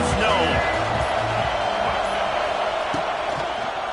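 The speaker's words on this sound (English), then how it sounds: "This crowd ready to make its presence known." A football stadium crowd roars in a dense, continuous wash of noise that stays loud throughout, with a voice faintly audible above it.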